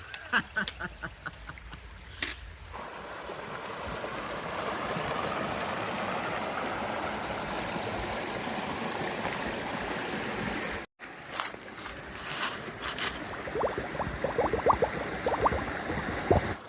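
Water flowing in Agua Caliente creek on the Pacific Crest Trail, a steady rushing stream with splashy footsteps and knocks at the start and end, and a short cut in the middle.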